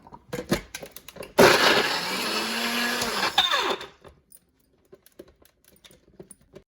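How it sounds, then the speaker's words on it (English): Carrots are ground in a Magic Bullet blender in one loud whirring burst of about two and a half seconds, framed by small clicks and handling knocks before and after. "I ground them up in the bullet, which is much quicker."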